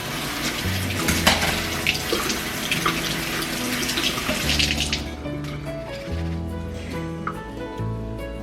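A kitchen tap runs while freshly cut herbs are rinsed for garlic herb butter. Water splashes and gurgles steadily into the sink with shifting patter, and the flow softens toward the end.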